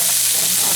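Sausage and onion frying in a skillet give off a loud, dense, unbroken sizzle and hiss over a brief moment, with no talking.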